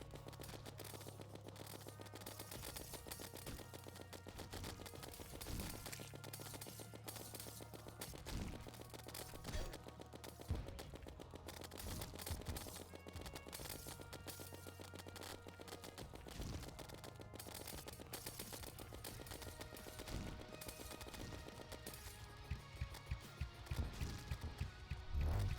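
Rapid repeated gunfire from a weapon in Terraria's Calamity Mod, a continuous stream of quick crackling shots mixed with game music and effects, steady and dense throughout.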